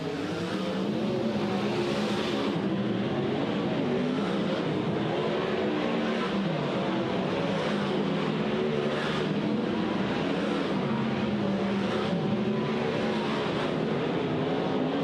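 Race cars roar around the Placerville Speedway dirt track during a hot lap session, a dense, steady engine drone with rising and falling revs as several cars circle, loud and continuous throughout with no talk.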